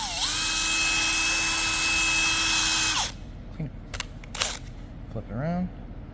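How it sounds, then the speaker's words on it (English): A power drill whines at a steady high pitch for about three seconds, spinning a small part from a GX160/GX200 carburetor for cleaning, then spins down and stops, leaving a few light clicks and handling noises. "I just chuck it straight into my drill"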